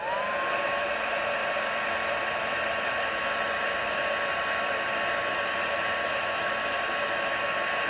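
An embossing heat tool blows a steady, loud, hair-dryer-like whoosh for the whole stretch, setting melted Stampin' Up! Heat & Stick powder and glitter on a craft piece, with no talking.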